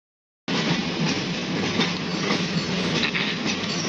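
A moving train heard from on board, a continuous rumbling roar with clattering wheel rhythm, close and steady after an abrupt start.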